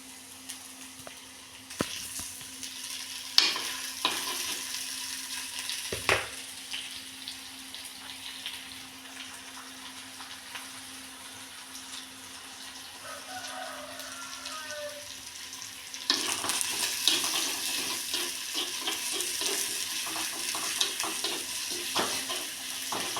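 Onions sautéing in oil for a mackerel fish curry give a soft, steady sizzle with occasional clinks of stirring, close by and without talk, growing louder and brighter toward the end.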